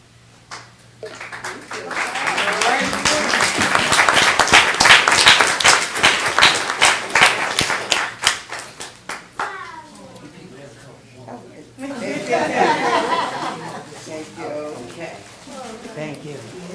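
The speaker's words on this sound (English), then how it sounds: "Let's give Reverend Brown a hand of applause." An audience at a city council meeting claps and cheers loudly for several seconds, then the applause fades and a second, shorter burst of clapping follows alongside talking.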